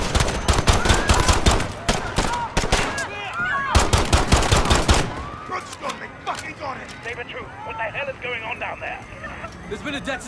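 Gunfire in Call of Duty: Modern Warfare 2019, loud rapid automatic bursts close by that thin out into scattered, more distant shots with shouting voices throughout.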